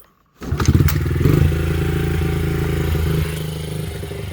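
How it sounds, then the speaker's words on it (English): A 2005 Honda CRF50 dirt bike engine catches after a silent start and settles into a steady, close-up idle with a rapid, even mechanical pulse and a little rattle, running alone. "It's idling, no choke."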